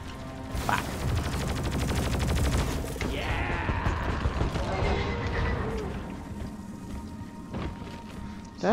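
Rapid gunfire rattles in Deep Rock Galactic as players focus fire on a Praetorian, a dense sustained burst of shots with mechanical clatter that thins out toward the end, with voices underneath.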